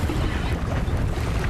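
Steady wind buffeting a fishing boat out on open water while chasing trevally, a continuous loud rush and rumble with no pauses.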